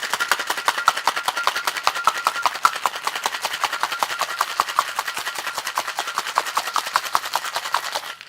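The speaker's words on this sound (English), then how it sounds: "And give it a shake for 10 to 12." Cocktail shaker packed with ice, shaken hard for a milk punch, gives a fast, steady rattle of ice striking metal, loud and close, running without a break for about eight seconds before stopping abruptly.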